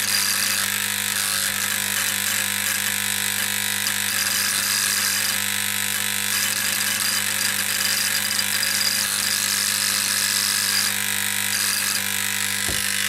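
An electrospark hardening machine works on a tool plate in soft mode, giving a continuous loud buzzing crackle with an electrical hum underneath that holds steady throughout, with no speech.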